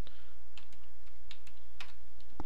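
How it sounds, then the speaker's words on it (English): A zip code being typed on a computer keyboard while setting a weather location on an Ubuntu desktop: a steady run of close, crisp key clicks at an irregular rhythm over a faint hum, without talk. "type in your zip code"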